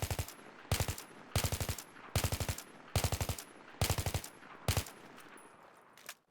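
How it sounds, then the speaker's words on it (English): Weapon in Battlefield 3 fired in full-auto bursts, loud and close: seven rapid clusters of sharp shots with brief gaps between them, each burst a quick rattling string, and no talk. "The first one is 2 bursts of 15 bullets each, full auto, with of course controlling the recoil"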